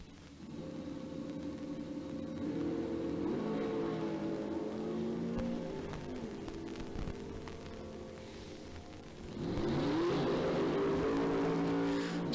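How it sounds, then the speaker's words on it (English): A drag racing dragster on a drag strip roars loud and close, its engine rumble rising in pitch as it accelerates, dipping, then surging louder again toward the end with no talk. "KJ Desa rolling up in the dragster"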